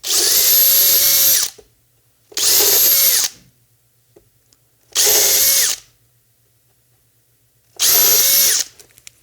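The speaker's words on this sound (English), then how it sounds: "Make sure those wires stay away from the drill." A power drill runs in four separate bursts of about a second and a half each, loud and close, with quiet pauses between them while working near robot electronics wiring.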